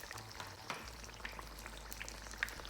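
Battered fish frying in very hot, spitting oil for a homemade fish supper, a steady soft crackling sizzle with scattered sharper pops throughout, fairly close and alone with no voices.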